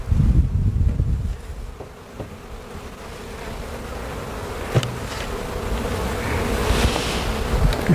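Honeybees buzz around a beehive outdoors by an east fence, a colony that needs feeding; a steady insect hum sits under gusty wind noise, with no talking.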